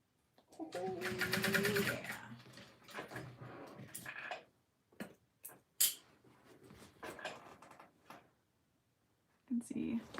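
A sewing machine stitches slowly over a seam of a handbag, a close buzzing whir that runs in short bursts with pauses between, mixed with quiet talking and handling noises.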